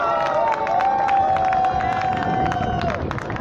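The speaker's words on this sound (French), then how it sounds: "Je vous demande de l'acclamer une fois de plus." A large crowd at a Cameroonian diaspora political rally in France cheers and claps loudly and steadily, a sustained roar of voices with whoops and rapid clapping throughout.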